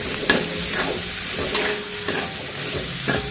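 Bay leaves and galangal fry in used cooking oil, giving a steady sizzle and hiss with intermittent stirring scrapes throughout, close and moderately loud, with no voices.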